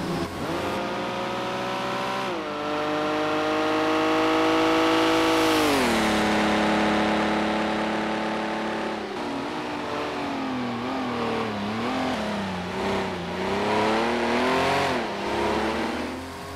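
Porsche race car in a racing video game accelerating hard, engine revving up through gears with rising whine and shifts, loud and close, alone without talk.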